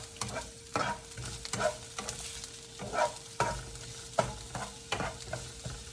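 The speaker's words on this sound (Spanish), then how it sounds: "Vamos a dejar que la cebolla se sofría." Chopped onion frying in a pan while being stirred, a steady soft sizzle broken by regular scraping strokes of a utensil, heard up close and quiet, with no talking.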